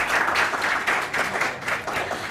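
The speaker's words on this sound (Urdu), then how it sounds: "تالیاں ہونی چاہیے" Studio audience at a religious quiz show claps in a brief burst of applause, dense and fairly loud, rising and falling in waves over a couple of seconds.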